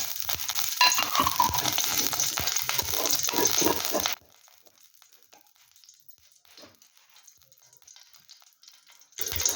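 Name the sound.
lightly frying nuts in ghee in a kadai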